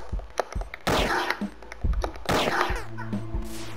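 Video game gunfire aimed at the player, heard as repeated sharp bursts and shots at varied distances against a busy mix of other game sounds.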